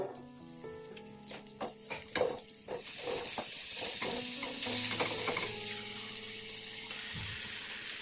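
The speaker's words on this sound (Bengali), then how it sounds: "এই অবস্থায় আমি ম্যারিনেট করে রাখা চিকেনগুলো দিয়ে দেব।" Marinated chicken dropped into frying masala for chicken do pyaza sizzles and crackles, with clattering stirring knocks early on settling into a steady sizzle, close and clear without speech.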